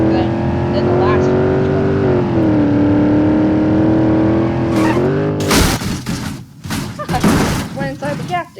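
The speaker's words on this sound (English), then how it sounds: "This engine sounds more like off-roady than the last" An off-road CJD Special car engine in BeamNG.Drive hums with a steady, loud drone that shifts in pitch as it revs, then gives way to clattering bumps and rough, uneven noise.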